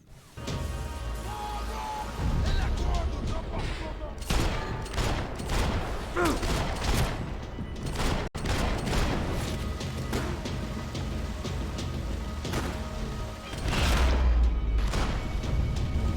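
Dense, sustained gunfire in Max Payne 3, rapid overlapping shots and impacts with booming low-end crashes, continuous and loud throughout, briefly cutting out midway before a heavier burst near the end.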